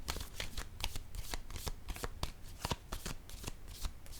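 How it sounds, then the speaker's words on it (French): Tarot-style cards are handled and laid down during a card reading, a close, quiet flurry of crisp papery flicks and soft taps in quick, uneven succession, with no voices. "Je vais déposer une autre carte."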